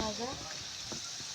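Palm fruit fritters fry in hot oil with a soft, steady sizzle, close and fairly quiet, as a voice speaks briefly over the start.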